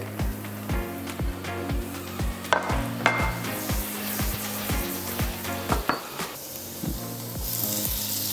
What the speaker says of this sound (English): Our veggies in, I'll add half of these onions, some garlic,